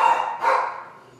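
Dogs bark in two quick bursts, near and moderately loud, fading toward the end with no voices over them.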